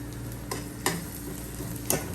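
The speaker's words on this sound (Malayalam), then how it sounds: "ഇനി നമുക്ക് ഈ കടുക് പൊട്ടിച്ച് ഇതിനകത്തോട്ട് ഒഴിച്ചാൽ മതി." Mustard seed tempering in hot oil is poured into a brinjal curry, giving a steady close sizzle and crackle with a few sharper pops and stirring clatters, no voices.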